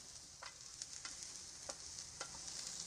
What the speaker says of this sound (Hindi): 1 मिनट तक इसे हमने फ्राई करना है।